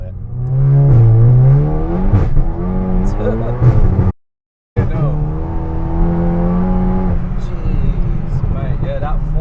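A SEAT Leon Cupra tuned to 632 horsepower accelerating hard on a road, its engine climbing in pitch, a brief cut at the shift into fourth, then pulling again, loud from inside the car with voices over it.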